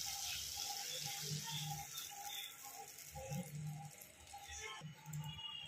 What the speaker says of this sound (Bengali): আমি জল যেটুকু দিয়েছি আর একটু জল অ্যাড করলাম